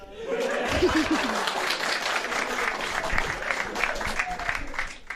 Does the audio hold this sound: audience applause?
yes